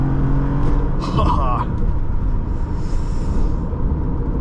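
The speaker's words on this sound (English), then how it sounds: "we'll do a quick 0 to 60 test" A 2009 Toyota RAV4 V6 with 4WD accelerating hard down a straightaway in a 0 to 60 run, a steady loud engine roar building throughout from inside the cabin, with a brief voice near the start.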